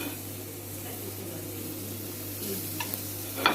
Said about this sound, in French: je vais mettre mes petites brochettes de crevettes